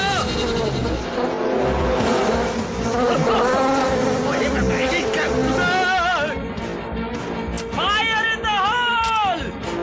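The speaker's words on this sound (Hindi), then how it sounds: "जाओ मेरी मक्खियों।" A swarm of flies released in an action film scene, a dense continuous buzzing drone that stays loud throughout, with shouting voices and other noises layered over it.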